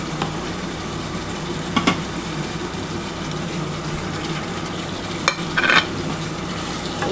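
Chicken with capsicum frying on a tawa over lowered gas, giving a steady soft sizzle throughout with a couple of brief clinks of stirring.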